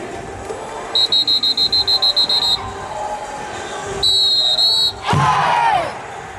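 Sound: crowd clapping and shouting to a whistle

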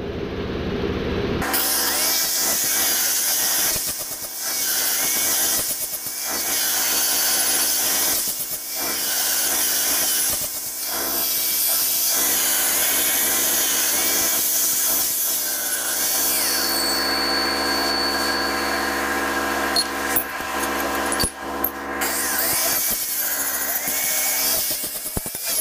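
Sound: deburring metal edges and removing paint

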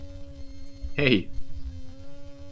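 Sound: bee buzzing

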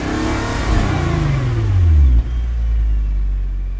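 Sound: Nissan GTR T-Spec 2024 engine in Gran Turismo video game

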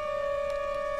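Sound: disco sirens in a video game

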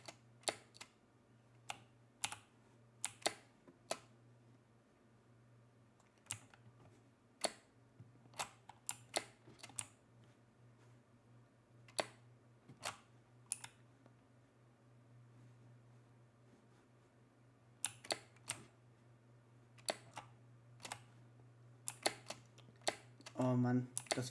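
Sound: typing on a mechanical keyboard

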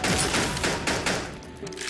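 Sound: pistol gunfire in a video game

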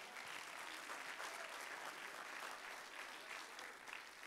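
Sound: audience clapping hands in church

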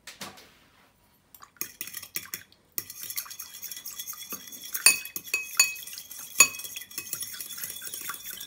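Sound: stirring cream and gelatin mixture with a utensil

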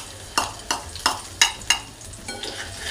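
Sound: finely chopped green chillies frying in oil in a wok

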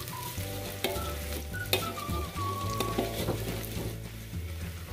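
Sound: stir-frying shallots and garlic in a pan

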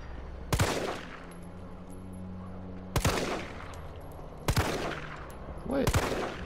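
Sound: gunshots from the video game Resident Evil 3

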